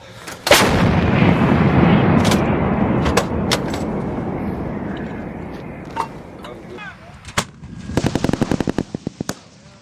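An M777A2 howitzer fires with a massive near blast, then a long rolling boom that echoes and fades, while people shout commands nearby, followed by a rapid string of sharp cracks toward the end.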